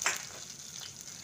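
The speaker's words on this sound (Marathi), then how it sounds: "कांदा घालून घ्यायचं. जरा तांबूस कलर उचलून त्याला भाजून चांगलं घ्यायचं." Onion frying in a pan for vermicelli upma, a soft, steady sizzle with a brief louder burst at the start, heard alone and fairly quiet.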